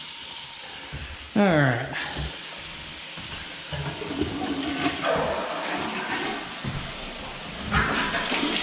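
Water running from a household tap during a home inspection, a steady gushing flow with a brief squeaky turn of the handle near the start, and someone speaks briefly over it.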